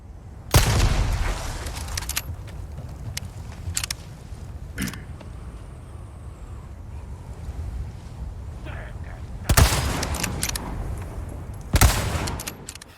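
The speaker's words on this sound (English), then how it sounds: "Now shoot the explosive barrel to lure the enemy to the right towards it, and shoot him with the rifle as well." Gunfire and a booming explosion from an explosive barrel in Resident Evil 4 Remake, sharp loud bursts with rumbling tails separated by quieter ambient stretches, with a voice talking over it.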